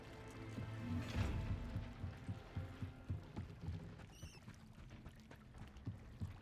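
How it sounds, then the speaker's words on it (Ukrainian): Flowing water in the wizarding game Hogwarts Legacy, a faint, soft trickling and splashing with small repeated pulses, heard quietly in the background. "Так, тихо, вода."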